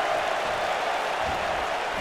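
Wrestling video game crowd noise from a Houston arena, a dense, steady roar of cheering and applause that stays level throughout without any distinct voice.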